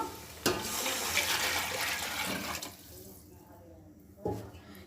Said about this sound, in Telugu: నేను ఇప్పుడు నీళ్లు పోస్తాను